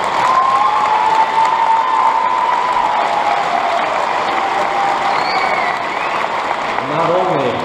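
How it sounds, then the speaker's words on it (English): Applause and some cheering from a crowd at a graduation ceremony, steady broad clapping with a few tonal whistles or calls rising above it and a murmur of voices underneath. "Let's give them a round of applause"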